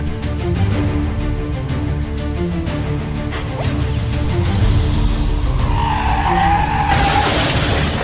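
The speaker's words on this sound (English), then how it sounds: "Now he's spinning across the highway." Tires screech and squeal as a car skids and spins across a highway, over a loud rumbling engine and mechanical clatter, ending in a harsh rising hiss.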